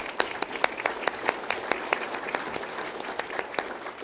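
Steady audience applause at a Choose Chicago event, many hands clapping at once with sharp individual claps standing out over a continuous crowd patter throughout.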